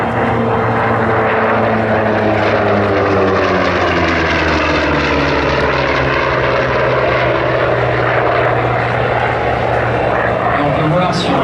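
A Corsair F4U-5 propeller fighter passes at an air show, its loud, throbbing piston engine droning steadily close by, with the pitch sliding as it goes past.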